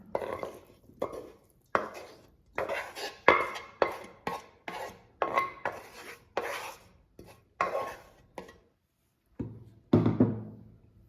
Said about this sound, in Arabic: دابا انا غادي نخلط المكونات مع بعضياتهم